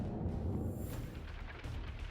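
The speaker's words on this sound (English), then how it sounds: "Look at the fireworks and how its projectiles detonate." Missile projectiles from an air defense system hit by a HIMARS strike detonate in a dense, continuous rumble of distant booms and crackling blasts, with no talk.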